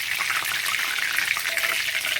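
Chicken pakora fries in hot oil, a loud, dense, bubbling sizzle that runs unbroken and close up.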